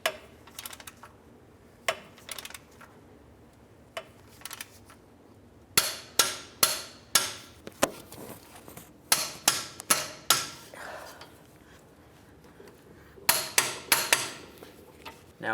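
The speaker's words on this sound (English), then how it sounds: "Now we can torque all these bolts to 152 foot-pounds." Bolts on a 1999-2003 Toyota Solara control arm being tightened with a ratchet or torque wrench, giving sharp metallic clicks and knocks in irregular bursts, close and moderately loud, with no talking.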